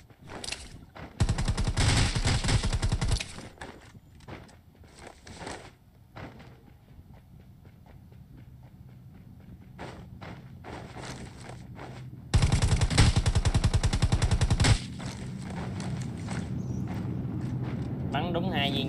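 Rapid automatic gunfire in the battle-royale game Rules of Survival: loud sustained bursts near the start and again around twelve to fifteen seconds, with scattered single shots between and someone talking over the action.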